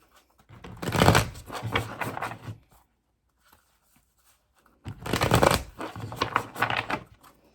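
A deck of animal oracle cards being shuffled in two separate bursts of dense riffling and flicking, with a quiet pause between them and no talking.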